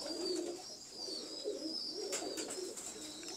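Teddi kabootar pigeons coo in low, soft pulses, with faint higher chirps threading through; no one talks over them.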